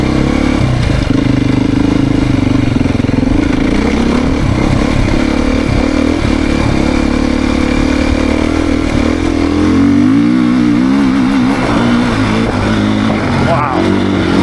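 A Beta 430RR-Race dirt bike engine on a demo ride, loud and close throughout, revving and pulling with rising and falling pitch and a gritty, continuous roar, shifting tone near the end.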